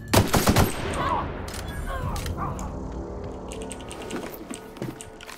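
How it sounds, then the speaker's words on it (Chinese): Heavy machine gun fire in the video game The Outer Worlds, a loud rapid burst of shots at the start followed by scattered sharper cracks, with someone talking over the combat. "重机枪，我差点被打死了"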